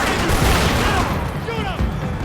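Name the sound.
gunfire in the video game Max Payne 3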